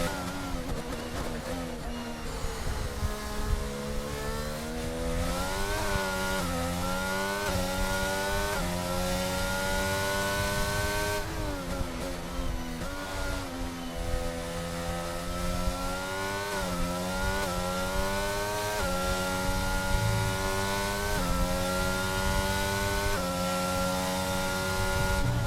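An F1 race car running on intermediate tyres in the F1 22 video game screams at sustained high revs, its pitch sweeping up and down through gear changes in a loud, continuous engine whine.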